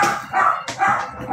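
A dog barks in a few sharp, close yelps and whimpering barks, roughly three bursts in quick succession, loud and near with little else around.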